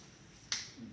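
A single crisp finger snap lands midway through a quiet, otherwise still moment.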